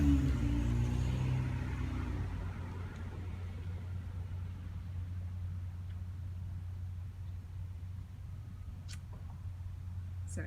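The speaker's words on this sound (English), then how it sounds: "Some city car just pulled up in front of my house." A car pulling up in front of a house, with a low engine rumble that starts louder and settles into a steady idle. No one speaks.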